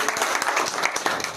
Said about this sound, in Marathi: आपण जोरदार टाळ्या